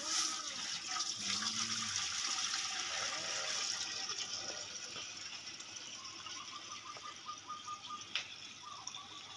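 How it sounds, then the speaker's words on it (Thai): Boiled fish sauce poured into a pot while cooking Thai khanom chin nam ya pa with chicken feet, a steady close watery pouring and splashing that fades gradually, with faint clinks near the end. "อันดับแรกครับเราใส่น้ำปลาที่เราต้มไว้นะครับ"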